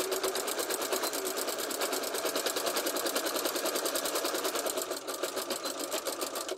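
A sewing machine stitches a quilted, quilt-as-you-go Christmas stocking, its needle chattering in a fast, even rhythm, close and continuous with a slight dip near the end.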